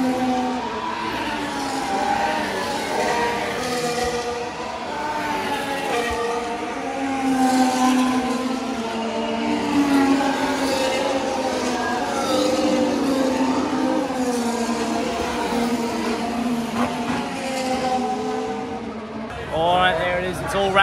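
Formula 1 cars roar past on the first lap, rising and fading engine whines heard from a crowded trackside, with people talking and cheering over the noise.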